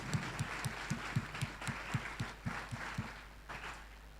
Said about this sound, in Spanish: Vamos a darle un fuerte aplauso al Señor Jesús.